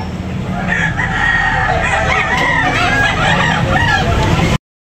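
A rooster crows loudly and close at a chicken market in Tabunok, Talisay, while other chickens cluck in the background, continuous throughout.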